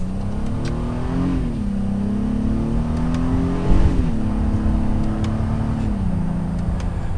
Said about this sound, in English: I'm gonna switch over to using the paddle shifters here, and we will test the acceleration from first gear